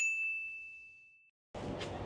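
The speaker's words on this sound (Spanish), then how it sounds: "Vamos a tocar acá el timbre." A café entrance doorbell gives a single clear ding that rings out and slowly fades, then a burst of broadband noise follows.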